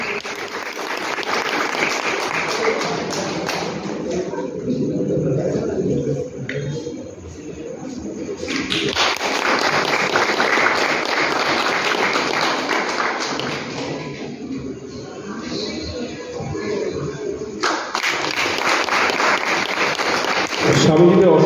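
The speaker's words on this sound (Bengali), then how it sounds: "ছাত্রদের এই প্রচেষ্টার জন্য একটা জোরে হাততালি।" A hall audience at a Bharat Sevashram Sangha Saraswati Puja gives sustained applause for students, a long steady rush of many hands clapping that swells and dips in waves over about twenty seconds.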